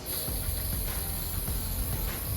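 Maxima Fab 1 spray-on air filter oil hisses steadily from an aerosol can onto a Honda CRF 250 RX dirt bike air filter, a close, continuous spray.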